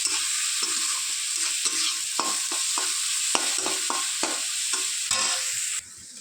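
Fish head being stir-fried with turmeric and salt sizzles loudly in a pan while a spatula scrapes and knocks in a quick irregular rhythm, close and unaccompanied by voices, before the sizzle drops away at the end.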